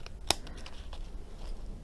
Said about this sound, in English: if we get our scissors and we just cut off that little remaining bit